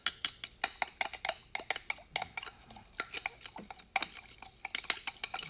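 Metal screwdriver stirring muck inside a jar, a quick series of sharp scraping clicks and taps in an irregular rhythm, close and fairly quiet.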